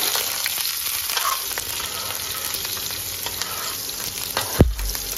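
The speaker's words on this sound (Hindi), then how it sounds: "और अब हम इसमें डाल देते हैं प्याज।" Onions dropped into hot oil already holding cumin seeds and asafoetida, frying with a steady broadband sizzle, then a sharp surge of crackling as more goes into the pan near the end; no voices.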